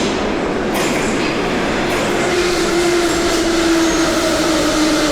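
An underground metro train in Georgia rolls through a tunnel with a loud, continuous rumble, a faint high wheel squeal drawing out across the middle, and no voices.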